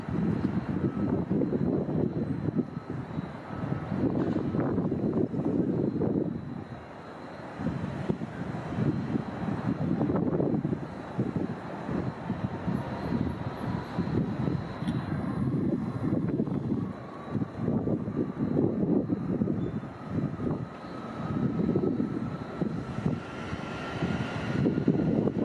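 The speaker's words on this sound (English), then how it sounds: "This Airbus A380 showing off its engine power when blasting off from a wet runway." An Airbus A380 taking off from a wet runway, a deep, sustained engine roar that swells and surges throughout with some wind buffeting on the microphone.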